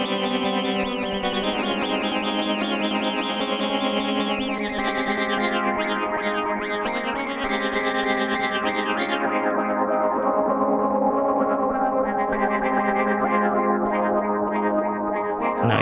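A Moog Matriarch synthesizer patch with heavy stereo feedback and echo, swirling dense tones that shift and smear, loud and sustained, with no speech.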